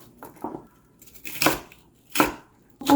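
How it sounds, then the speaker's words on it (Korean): A knife cuts onion and other vegetables for cheonggukjang stew, making a handful of separate, close cutting strokes with short quiet gaps between them. "청국장에 들어갈 야채들을 썰어 보겠습니다"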